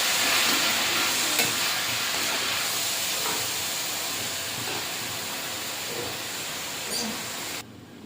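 Red leafy greens cooked with chilli powder and turmeric sizzle and hiss in the pan after water is added. The sound is a loud, steady steamy hiss that fades slightly and drops off sharply near the end.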